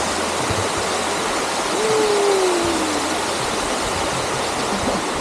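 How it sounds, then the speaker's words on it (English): A waterfall roars as a steady, dense wash of water on an Australian road trip, continuous and fairly loud, with a single owl-like hoot sliding downward briefly in the middle. "Here we are in the waterfalls."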